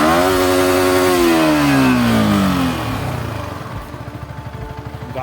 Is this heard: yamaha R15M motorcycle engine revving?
yes